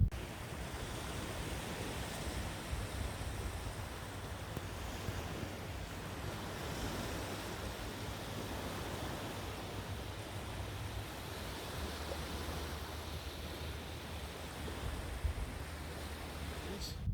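Ocean surf rolls in on a sandy beach at Rocky Point, Puerto Peñasco, Mexico, a steady, soft wash of waves with light wind noise throughout.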